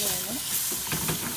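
Sauce pours into a hot clay pot of Kerala-style fish curry, giving a steady hiss and sizzle with light stirring scrapes throughout.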